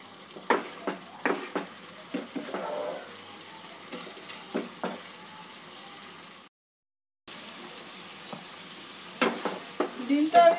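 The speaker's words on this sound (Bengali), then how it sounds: "ডিমটা আমি মিনিট খানেক নাড়াচাড়া করে নিয়েছি মশলার সাথে।" Eggs are stirred with spices in a pan for egg curry, a soft background sizzle broken by repeated clinking scrapes of a utensil, moderately quiet, with a brief silent dropout midway.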